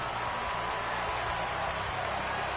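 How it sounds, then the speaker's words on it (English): A stadium crowd at a Braves home game in the video game MLB The Show 18 produces a steady, dense wash of cheering and applause in the top of the ninth, loud and continuous throughout. "And this crowd is fully into this ball game."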